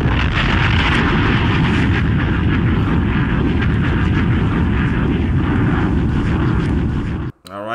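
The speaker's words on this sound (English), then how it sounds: "Let me give you a bomb too." A loud, sustained bomb explosion sound effect played on a crypto live stream: a dense, roaring blast rumble that fills nearly eight seconds before cutting off abruptly.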